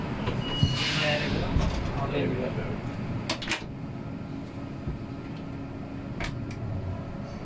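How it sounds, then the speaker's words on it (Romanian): Doors close on a Bucharest Metro Line 5 train, heard from the driver's cab on the newly opened Eroilor to Valea Ialomiței section. Several sharp clunks sound over a steady rumble, and people talk nearby. "Atenție, se închid ușile."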